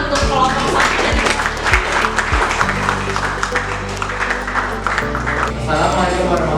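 Classroom group applauding a presenting team, scattered hand clapping mixed with voices, while a low sustained tone or music runs underneath; fairly loud and busy.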